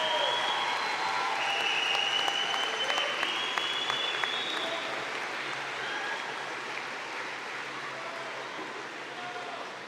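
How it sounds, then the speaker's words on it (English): Applause fills a commencement ceremony hall, a broad continuous roar of many hands that holds steady, with faint whistles or cheers riding above and softening slightly toward the end. "And give them a big round of applause"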